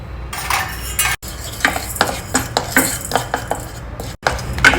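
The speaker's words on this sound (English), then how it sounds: "See, the methi seeds are also well roasted now." Methi seeds roasting in a dry pan while a metal spoon stirs and scrapes them, giving a run of sharp, close clinks and scrapes in an uneven rhythm over a faint background hiss.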